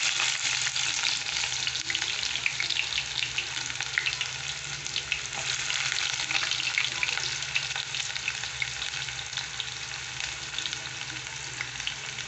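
Chopped onion frying in a pan, a steady, dense sizzle that holds close and loud throughout with faint clinks of stirring and no voices.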